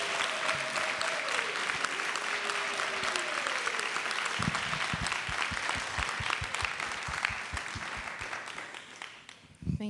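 Sustained audience applause at an NBCT celebration ceremony, loud and dense throughout, with a few sharper individual claps near the end and a faint voice in the background early on.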